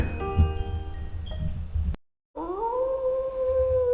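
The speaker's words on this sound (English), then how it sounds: "looking up the sky and letting out a hoarse howl" A wolf gives a hoarse howl: a wavering, drawn-out tone that rises then holds, following a brief silence and earlier faint tonal sounds, heard fairly close with no talking.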